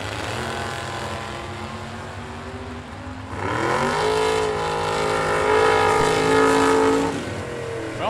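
Drag racing cars, a Pinto and a short-wheelbase 1974 Buick Opel, launching at a bracket racing event, with loud sustained engine roar that climbs in pitch as they accelerate and then fades.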